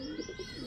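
A male pigeon coos in a low, throaty pulsing call close by, repeating without pause and with no voices over it.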